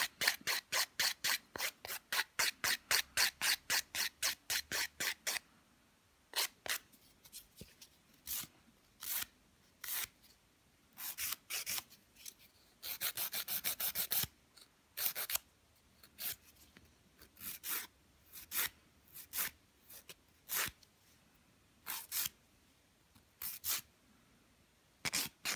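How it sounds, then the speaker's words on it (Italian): Nail file rasping back and forth to shorten nails during a nail reconstruction, with rapid steady strokes at first, then sparser irregular strokes, close and fairly quiet. "Andiamo ad accorciare sempre tenendo la lima sotto."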